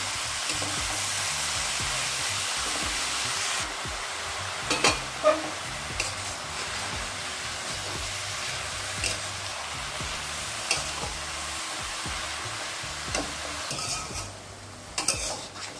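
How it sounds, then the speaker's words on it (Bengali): Chopped radish greens fry in a pan with a constant loud sizzle while a utensil stirs and knocks against the metal now and then, the hiss easing somewhat partway through, all close-up with no voices. "এবার শাকটাকে একটু প্রথমে আমি ভেজে নেব"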